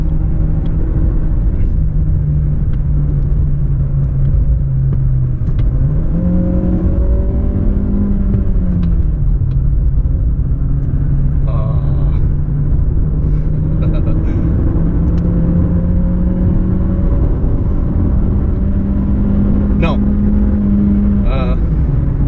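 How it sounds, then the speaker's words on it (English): A 2019 Mazda 6 with the SkyActiv-G 2.0 petrol engine revs while driving, its engine drone rising and falling steadily over a constant road rumble, recorded from inside the car with no pauses. "this SkyActiv engine is not only just fuel efficient, it is revvy, it is happy to rev."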